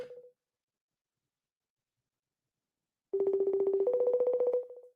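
A phone call goes through: a short dial beep, a few seconds of silence, then a buzzing ring tone at moderate level. The line stays unanswered and nobody talks.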